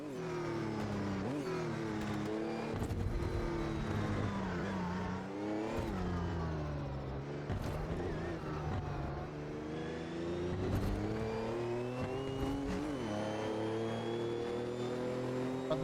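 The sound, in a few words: race car engine accelerating in Automobilista 2 video game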